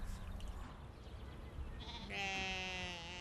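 Soay sheep bleat from a relict island population, a single drawn-out, wavering call rising clearly in the last second over a low outdoor rumble.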